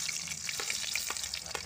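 Onions fry in a pan after fish, a soft, quiet sizzle with light crackles and a few small pops spread through the brief moment.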